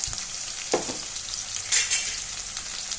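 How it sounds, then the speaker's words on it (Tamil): Small onions sizzle and fry in oil for a sardine curry while a spoon stirs the pan now and then. The steady frying hiss sits close, with a couple of sharper stirring scrapes and no talking. "சேர்த்துட்டு நல்லா எண்ணெயிலே வதக்கி விடலாம்"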